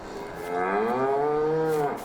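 A single drawn-out cow moo from a farming video game, loud and close, rising slightly then fading after about a second and a half.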